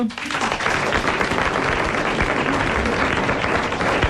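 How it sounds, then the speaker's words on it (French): A French television studio audience in 1988 bursts into dense, loud, sustained applause, a continuous wash of many hands clapping with no voices above it. "vous allez applaudir Monsieur Racinier de Lude,"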